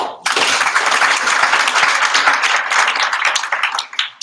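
Audience applause at a hackathon pitch night, a dense, sustained burst of many hands clapping that starts abruptly after a brief quiet moment and holds steady before thinning toward the end.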